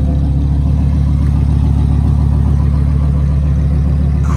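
Car engine working hard while driving up muddy hills, a steady loud mid-pitched drone with a low rumble and light clatter running unbroken throughout, close by, with no talking.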